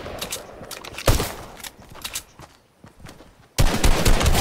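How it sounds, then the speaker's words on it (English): Fortnite gunfire, a pistol among other weapons, cracks in rapid irregular bursts, loud and close, with a brief lull before a dense, sustained volley. "Are you really gonna try to kill me with a pistol?"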